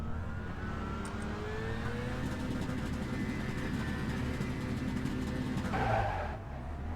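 Kia Cup race cars launch off the grid at Watkins Glen in a racing game, a loud dense roar of engines revving up together with rising pitch and a brief tire squeal near the end.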